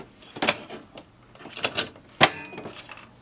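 Plastic clicks and knocks up close as an ink cartridge is pushed into a Canon MG2500-series printer, ending in one sharp locking snap, with no voices.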